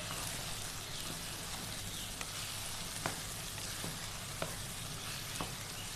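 Boiled beef fries in a karahi over a low flame, giving a continuous close sizzle with occasional faint ticks and stirring clicks, no speech.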